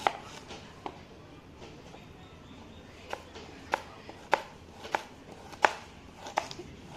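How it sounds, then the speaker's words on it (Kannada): An onion is chopped with a knife on a board for veg Maggi, giving sharp, isolated knocks at an uneven, unhurried pace, close and fairly quiet against a soft room background. "ಇವಾಗ ಆನಿಯನ್ ಕಟ್ ಮಾಡೋಣ."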